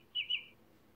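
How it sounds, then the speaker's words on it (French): A small bird, such as a blackbird, gives two quick high chirps in a row, then quiet outdoor air. "à commencer par des merles, des petits oiseaux"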